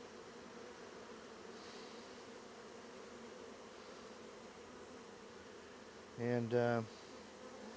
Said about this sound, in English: I'm going to let you watch these bees